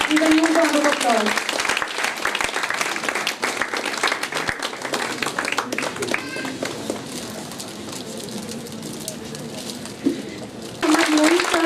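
Crowd applause at a school annual day event, loud at first then thinning and fading beneath a speaking voice over an amplified system, with talk resuming at the end.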